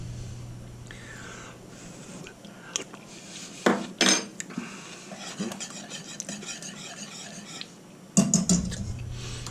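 A spoon stirs thickening homemade chicken pot pie filling in a pot, giving close scraping and clinking against metal, with a few louder knocks and a steady low hum beneath, no talking.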